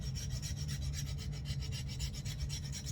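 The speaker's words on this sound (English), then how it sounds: "That file sound." Metal file rasping across a concrete gnome figurine in quick, even back-and-forth strokes, close up and fairly quiet, with a gritty scraping texture and no talking.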